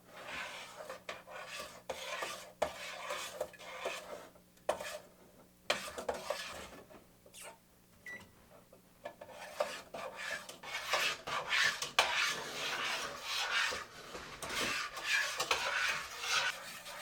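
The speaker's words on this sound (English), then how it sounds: "you just want to keep mixing it until it melts and it's gonna boil" A spoon scrapes and rubs steadily around a pot of peanut butter fudge mixture, a continuous gritty rasping stir with occasional louder knocks against the pot, close and alone.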